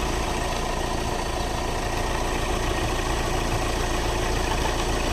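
A Hyundai Creta with a freshly overhauled engine idles steadily after starting, a dense, constant mechanical hum and rumble recorded close up with no breaks or talk.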